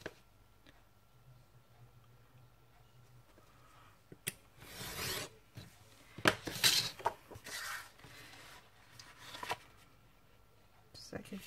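Paper being trimmed for a handmade mini album, heard as a few close, dry cutting and rustling strokes after a quiet start, with a person talking at times.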